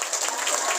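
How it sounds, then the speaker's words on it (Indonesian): An indoor crowd claps in steady, dense applause at a community gathering in Belitung, Indonesia, filling the short moment with no speech over it. "Tepuk tangan buat Pak Bupati kita"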